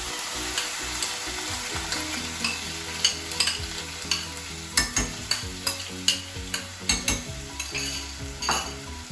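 Grated onions and cumin seeds frying in a little oil, a continuous sizzle broken by repeated clinking and scraping of a spoon against the pan as it is stirred, close and fairly loud.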